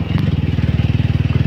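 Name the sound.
motorcycle riding on brick-paved road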